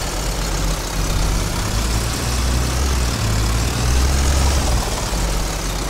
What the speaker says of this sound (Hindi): ये ट्रैक्टर फंस रहे हैं, रिवर्स कर लेते हैं इनको।